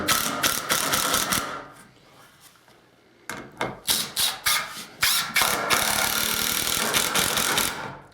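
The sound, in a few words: Ridgid 18V drill driving screws through stacked 2x6 boards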